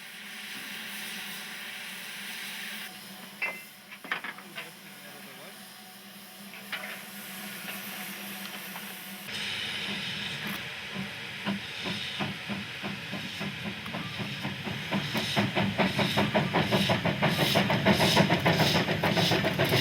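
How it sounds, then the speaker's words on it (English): A small 1933 Avonside steam tank engine on a South African railway, first hissing steam quietly, then starting to chuff with rapid, rhythmic exhaust beats that grow louder and closer toward the end. "This small tank engine, built by Avonside Bristol in 1933, used to work on nearby sugarcane estates."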